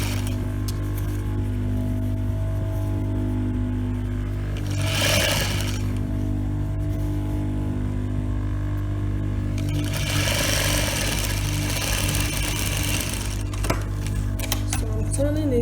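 Sewing machine stitching the crotch seam of elastic-waist senator trousers, a steady close mechanical whir running throughout with brief louder bursts of rattling as the fabric is turned.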